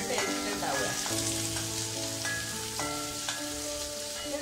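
Finely chopped small onions sizzle in a pan while a leafy thoran is cooked, producing a constant, dense crackle close by, with faint stirring underneath.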